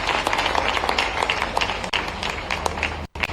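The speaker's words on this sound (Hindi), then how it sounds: "ताली वाली बजाओ" Students on the 17th Vigyan Manthan Yatra in Bhopal clap loudly and steadily, a dense close-up patter of many hands that breaks off for a moment near the end, then resumes.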